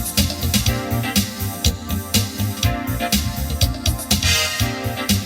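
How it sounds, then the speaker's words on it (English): A Roland VA-76 arranger workstation plays a major chord through its auto-accompaniment, with a loud rhythmic pattern of drums, bass and chords pulsing steadily for several bars, no voice present. "That's what the major chord sounds like."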